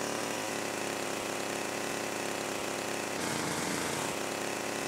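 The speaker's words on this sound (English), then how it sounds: "Here's the proper chainsaw sound." A chainsaw in the GTA Definitive Trilogy video game, a loud continuous buzzing engine drone that holds steady, then rises into a harsher, higher rev near the end, with no speech over it.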